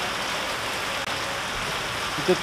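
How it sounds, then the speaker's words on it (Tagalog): Heavy rain in Baguio City pours down as a dense, steady hiss that stays loud and even throughout, with a brief voice near the end. "Lakas ng ulan eh."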